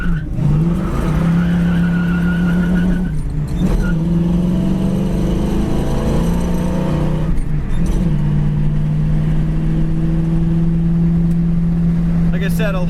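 A green 1966 Ford Mustang fastback engine revs loud and close, its pitch climbing and falling over several throttle blips with short breaks between them, then holding at a steady idle.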